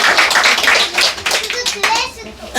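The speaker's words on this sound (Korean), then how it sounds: "우리 하나님께 영광 박수 올리겠습니다" Church congregation applauds, a close, dense burst of many hands clapping, fairly loud, with voices and a few children mixed in.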